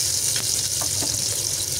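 Chopped onion and green chillies fry with spices in a hot pan, a steady loud sizzle with faint stirring scrapes, no voices.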